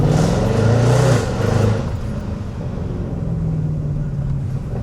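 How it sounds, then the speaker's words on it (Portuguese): A Mercedes C63 AMG engine revs hard and accelerates with a loud, deep roar up close, then eases into a lower, steadier drone as the car pulls away. "Uma porrada de torque, barulho lindo, o carro deslancha"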